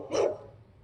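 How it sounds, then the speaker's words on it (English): A neighbor's dog gives a single short bark at a distance, a brief sharp yelp that fades quickly into quiet room tone. "if we say the Karens, the neighbor dog barks"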